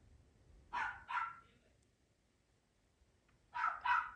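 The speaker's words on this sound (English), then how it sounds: "My dog is loud." A dog named Jax barks in two quick double bursts, a pair of sharp barks, a pause of about two seconds, then another pair, moderately close in a quiet room.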